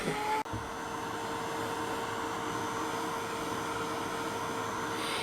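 A hot-air dryer blows on glue on a vintage altered craft box, a loud, steady whooshing roar with a faint whine that runs unbroken after a sharp click as it switches on.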